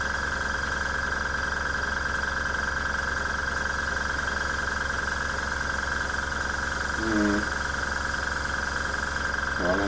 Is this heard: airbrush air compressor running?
yes